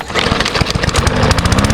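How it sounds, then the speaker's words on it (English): A lawn mower cuts short grass on flat ground, its engine a steady, loud drone with a rapid choppy pulse running through the whole stretch, close to the listener. "Where the ground is flat and the grass isn't too high, the lawnmower does the job easily"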